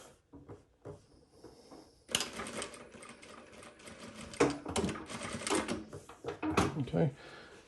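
A JUKI DDL-900C industrial sewing machine stitches in bursts with start and end tacks, a rapid mechanical whirring and clatter that stops and restarts, while a person talks over it.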